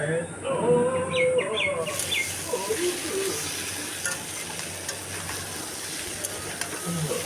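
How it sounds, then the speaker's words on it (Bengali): Egg and fried potatoes stir-fry together in a pan, a soft continuous sizzle with intermittent scraping and clatter, moderately faint, with faint bird calls in the background. "ভাজা আলুগুলো দিয়ে একসাথে ভালোভাবে ওটা ফ্রাই করে নেব যাতে ডিমটা ভালো সুন্দর ভাজা হয়ে যায়"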